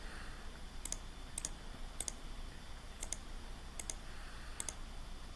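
A computer mouse clicks about seven times at an uneven pace while selecting faces in 3D modelling software, crisp and close over faint background hiss, with no talking.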